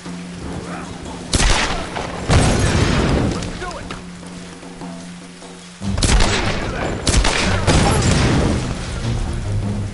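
Gunshots from the 2013 Tomb Raider game, with a few heavy booming blasts separated by pauses, set against a constant rumbling background and occasional talk from a player.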